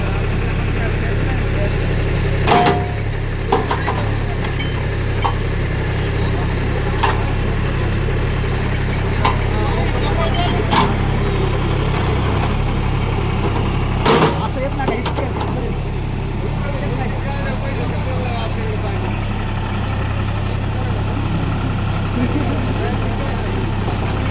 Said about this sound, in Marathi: ट्रॅक्टरला आपल्या JC मध्ये कन्वर्ट केलेलं आहे शेतकरी मित्रांनो.